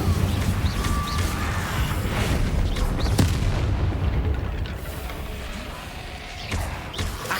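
Incendio fire spell cast in Hogwarts Legacy bursts out as a loud, crackling whoosh with sharp booming impacts, followed by a softer, fading tail over several seconds of game combat noise.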